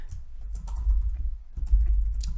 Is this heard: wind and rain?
no